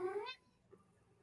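A cat gives one short, clear meow at the very start, fairly close, followed by near silence.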